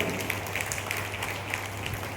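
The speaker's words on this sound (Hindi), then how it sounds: "एडवांस में ताली बजा लीजिए।" An audience in a hall claps together in a steady, dense patter over a low electrical hum, sustained with no pauses.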